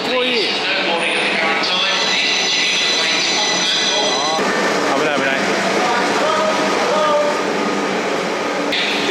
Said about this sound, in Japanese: 電車が来たんで乗っちゃったんですけど